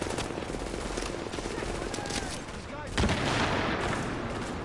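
Sustained enemy gunfire in The Division pins down the player. Rapid automatic bursts rattle on and off, with a heavier boom near the middle, all loud and continuous with no talking.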